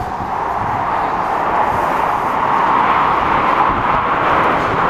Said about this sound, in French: Désolé pour le bruit, c'est un avion.